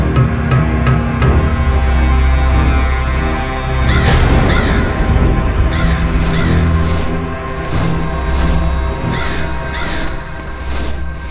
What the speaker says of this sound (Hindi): खोदा पहाड़ और निकला कौआ।